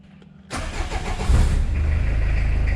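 A Suzuki Vitara engine cranks and catches after glowing its plugs, a sudden burst into life that settles into a steady, close idle with a slight lift in revs.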